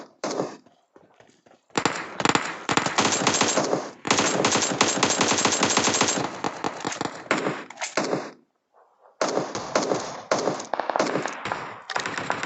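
Loud, sustained bursts of AKM rifle fire in the PUBG Mobile battle royale game, long rapid volleys broken by short pauses and a brief gap before firing resumes.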